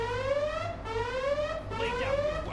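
A security alarm wails inside the DC Universe Online video game, a rising electronic siren tone that repeats in sweeping cycles, loud and continuous over low background hum.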